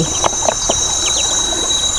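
A chicken, wet after a swim at a rural pond, gives several brief clucks and squawks over a steady wash of outdoor background noise.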